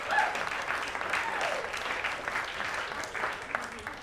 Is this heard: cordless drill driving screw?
no